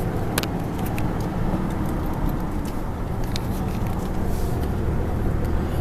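A 1999 Ford Ranger pickup with a 4.0 engine and manual transmission drives along, its steady engine drone and road rumble loud and close from inside the cab, with a few light rattles.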